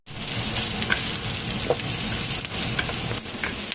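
Onion, ginger and garlic sauté in hot oil for a chicken tinola with papaya, giving a steady close sizzle with a few soft stirring scrapes and clicks from the spoon against the pan.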